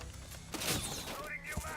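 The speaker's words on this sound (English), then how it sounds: "Throwing frag grenade." A frag grenade thrown in the Rainbow Six Siege video game: a sudden sharp burst with shattering crack and debris rattle, followed by further game noise, with a voice talking over it.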